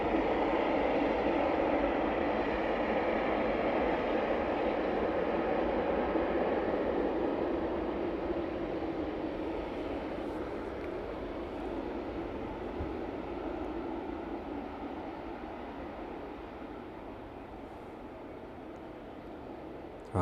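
A jet aircraft on approach from Leipzig to East Midlands Airport gives a steady, broad roar that fades gradually over about twenty seconds, with no talk.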